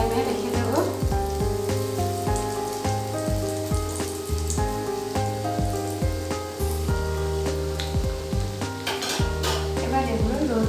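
Fish cutlets sizzle and fry steadily in a pan over a low flame, a continuous crackling hiss with occasional sharper pops and utensil clinks, heard close and alone.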